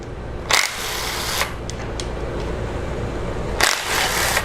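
An impact wrench removes timing cover bolts on a Jeep 2.4 engine, producing two loud close bursts of rattling hammering separated by a few seconds of lower clatter and handling noise.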